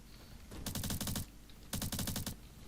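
Two short bursts of rapid automatic gunfire in the Roblox shooter Bad Business, each lasting about half a second, loud and close, with a quiet gap between them.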